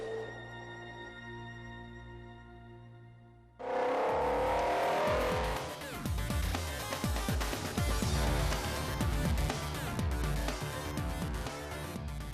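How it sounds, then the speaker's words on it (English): A Maserati MC20 Cielo open-top supercar engine roars loudly after a quiet start, its sound building into a sustained, powerful howl with pulses of revving and acceleration throughout. "with the roof down and a screaming engine behind you, you'll never notice"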